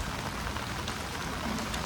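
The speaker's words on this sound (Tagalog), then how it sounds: "Umuulan pa." Steady rain patters down in a dense, even hiss, close and unbroken for the whole moment.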